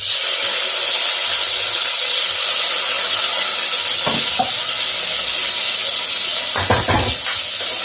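Cardamom, cloves and cinnamon fry in hot oil as the base for a Thalappakatti-style chicken biryani. A loud, constant sizzling hiss fills the scene, broken by a few brief scraping and stirring clatters near the end.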